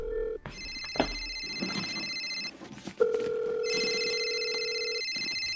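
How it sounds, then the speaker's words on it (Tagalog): A cellphone ringing indoors, a loud electronic ringtone with repeating bright tones that stops, then sounds again, alone with no talking. "Bakit cellphone mo yung nagre-ring tuwing tinatawagan ko yung number na nagpapadala sa akin ng text"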